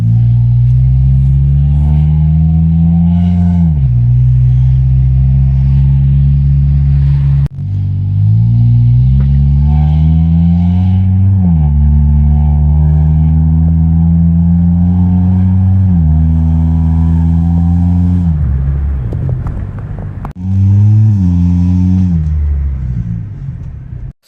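A car with a modified exhaust, quieter than an open downpipe but still loud, revs repeatedly up and down up close, a deep droning engine rising and falling in pitch with no talking.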